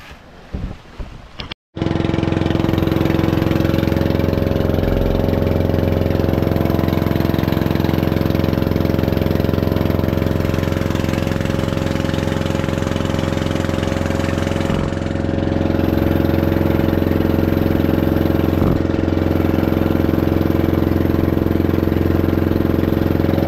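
After a short burst of noise, a bangka boat engine idles steadily during a sea trial with a low, chugging rumble that holds almost unchanged to the end.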